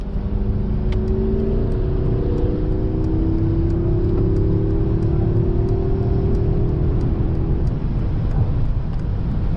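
A 2021 Mercedes S-Class S580 engine in Sport Plus mode revs and pulls hard through rising gears, a loud steady sporty growl with road rumble underneath, close and continuous, on a German road.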